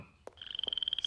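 A cartoon toad from a magic-school toad-to-print spell croaks in a quick series of rhythmic, buzzy pulses, preceded by a couple of soft thumps, fairly faint and alone.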